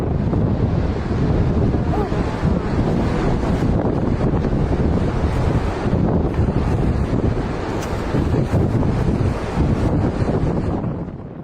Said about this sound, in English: These shots were filmed in Nazaré, Portugal, home to some of the biggest waves in Europe.